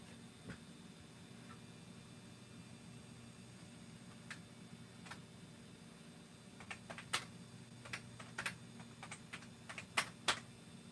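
Scattered keystrokes on a computer keyboard during a Linux install on an HP D530, starting sparse and turning into quicker irregular clicks, faint and close over a low steady hum.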